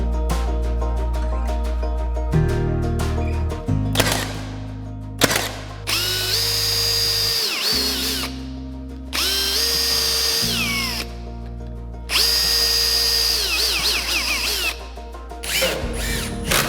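Power drill boring through wooden liners in repeated bursts, each spinning up with a rising whine then stopping, loud and close with short pauses between holes.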